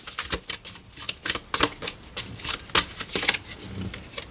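A tarot deck is cut and cards are drawn, giving a quick run of light papery flicks and snaps, close and fairly soft, with no voices.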